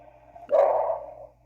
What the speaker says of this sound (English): Dog keeps barking and barking and barking.